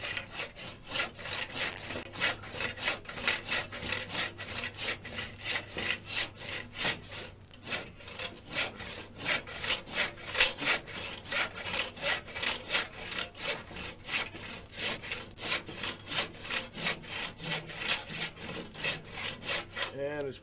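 An old crosscut saw cuts through very hard ash wood in fast, steady back-and-forth strokes, each stroke a loud raspy rip, close up with a brief pause partway through.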